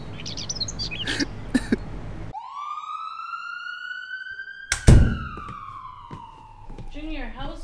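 Emergency vehicle siren rises in a clear, sustained wail close by, sliding slowly before fading, with a thud and scattered sounds around it and muffled voices at the edges.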